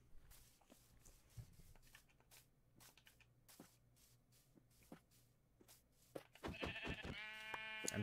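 Sheep in the video game Minecraft, heard as faint, scattered clicks and shuffling footsteps, then a louder, nasal, wavering bleat near the end.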